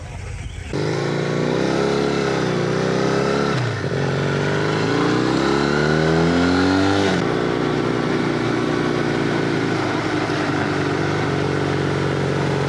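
A motorcycle engine runs steadily and close up, rising and falling in pitch as the rider accelerates and shifts, with a loud continuous drone throughout.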